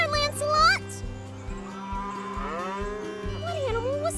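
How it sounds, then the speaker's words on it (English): A cow moos loudly and nearby in a long, sustained call, with a voice speaking briefly before and after it. "Oh, a cow! Hi, cow!"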